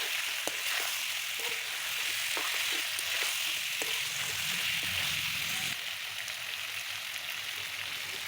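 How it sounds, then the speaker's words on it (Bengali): Winter vegetables with peas sizzle loudly in a pan, with occasional stirring knocks, then the frying hiss shifts and softens partway through as water goes in for the gravy, with no voices. "আমার সবজিটা কিন্তু কষানো হয়ে গেছে এখন কিন্তু আমি পরিমাণ মতো জল দিয়ে একেবারেই ঝোলটা দিয়ে দেবো"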